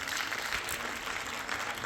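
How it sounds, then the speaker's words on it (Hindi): A crowd at a Ravi Kumar Foundation event in Moradabad applauds the team, a continuous wash of clapping at moderate distance, fairly quiet and unbroken. "एक बार जोरदार तालियां कर दीजिए समूची टीम के लिए"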